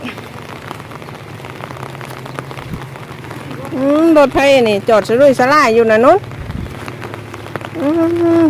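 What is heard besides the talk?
rain falling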